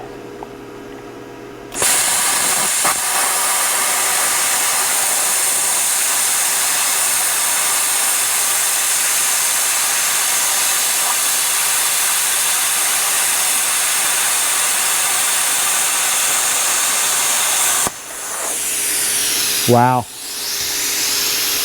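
A BestArc BTC500DP plasma cutter slicing through oily metal coated in dust, a loud, steady roaring hiss that starts abruptly and holds for about sixteen seconds before cutting off; a brief exclaimed word follows.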